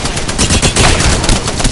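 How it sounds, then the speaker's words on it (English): Rapid automatic gunfire from enemies in a PS4 shooter, a dense, loud, continuous burst of shots. "Taking shots. They're aiming right at you."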